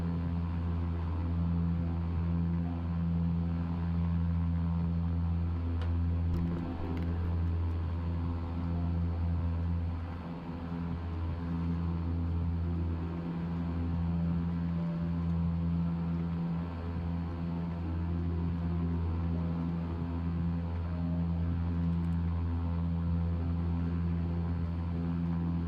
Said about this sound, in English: this airplane is kind of loud